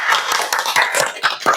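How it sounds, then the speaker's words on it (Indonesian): A group of children in a classroom-like setting clap their hands in a short, quick burst of uneven, close claps lasting under two seconds. "tepuk tangan dulu"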